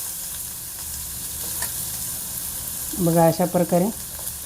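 Chopped onion and mustard seeds fry in oil with a constant low sizzle. Near the end a voice speaks briefly over it.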